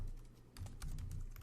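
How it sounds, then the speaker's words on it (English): A few quiet, separate keystrokes on a computer keyboard are soft and close, while a space and a file name are entered at a command line. "I'm going to type a space"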